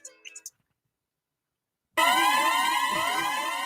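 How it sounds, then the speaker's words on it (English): A Jamaican horn siren sound effect, a loud wailing, repeating sweep of rising and falling tones that starts abruptly after a brief bit of talk and a short silence, continuing steadily to the end. "It's labelled up as the Jamaican horn siren"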